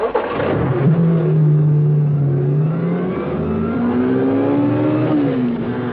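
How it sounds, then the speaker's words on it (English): A sports car engine revs hard and close, climbing and falling in pitch as it pulls away, loud and steady with no voices. "Minutes later, Martha joined Bromfield in the sports car."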